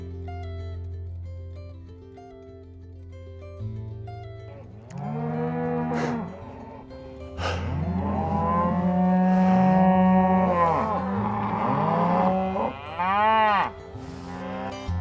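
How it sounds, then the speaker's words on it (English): Cattle in a desert canyon pasture between Colorado and Utah moo loudly and repeatedly, several drawn-out overlapping calls from near and farther animals, over a steady low engine-like hum with no talking. "They're just going crazy. I pulled in here and they're just mooing up a storm."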